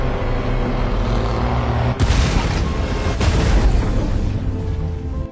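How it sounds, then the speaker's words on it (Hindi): A grenade launcher blast shatters a rock cliff in a movie scene, with two heavy, booming explosions about a second apart over a loud continuous rumble of falling debris and a dense action soundtrack. "जोरदार धमाके से चट्टान टूट गई"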